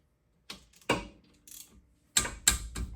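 A hand wrench works on car brake bolts during a brake replacement, giving several sharp metallic clicks and ratcheting bursts in an uneven rhythm, close and fairly quiet.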